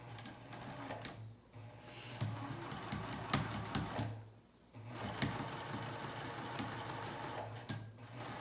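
A sewing machine runs top stitching around a garment, starting at the center back, in close, steady bursts of rapid stitching broken by two brief pauses.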